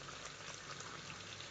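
Onions and chicken masala roasting in a pan for a Karnataka-style chicken sambar, giving a steady close sizzle and crackle throughout, with no talk.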